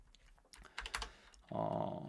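A few computer keyboard keystrokes typed at a desk while running a command in Stata, light clicks near the mic, followed by a steady low hum.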